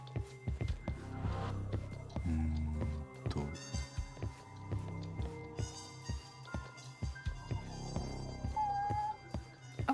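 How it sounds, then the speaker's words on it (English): A cat meows repeatedly in the video game Judgment, the calls fairly close amid soft game ambience and music, with no talk over them. "There's a cat meowing."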